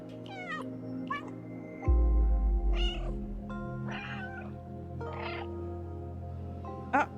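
A cat in the video game Stray meows about half a dozen times in short, rising cries, spread across the stretch over a low steady game drone with a louder rumble midway; no one speaks.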